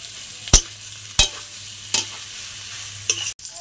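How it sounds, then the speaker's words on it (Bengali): Four sharp spatula scrapes against a pan, roughly evenly spaced, as mashed potatoes and soybean are stir-fried with a faint steady sizzle underneath; no talking. "আর আলুগুলোকে আমি এইভাবে ম্যাশ করে দিয়ে দিচ্ছি"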